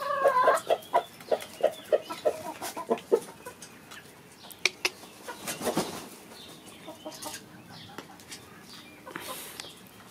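Hens cluck in a farmyard where they had been hiding in ivy and manure, a string of short, close, rhythmic clucks at first, then scattered calls, rustling and a wing flap under quieter background noise.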